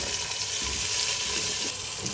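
Onions hitting hot oil in a pan, a dense, even sizzling hiss that stays steady and fairly loud throughout, close by with no talking.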